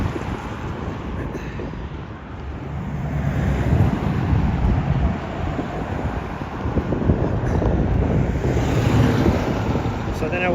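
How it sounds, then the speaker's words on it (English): Steady breeze buffeting an outdoor microphone at a running event in Bozeman, Montana, a continuous low rumbling roar that swells and persists throughout the clip. "Plus it's pretty breezy here."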